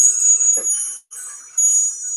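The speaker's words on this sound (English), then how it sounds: "Wind chime suddenly started moving." Wind chime swaying and ringing indoors, sustained bright metallic tones with a soft clank partway, a short gap, then the shimmering ring resumes, close and fairly loud.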